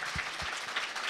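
Audience applause for the debaters at a public hearing on reform of the Brazilian Penal Code, a brief, dense patter of clapping from a moderately distant crowd.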